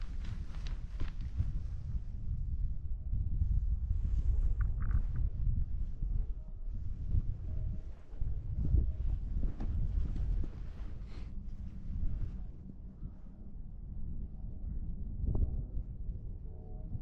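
Steady wind roaring across the microphone while paragliding on thermals above the freshly snow-covered Pfänder, a loud continuous rush with gusty swells and no speech.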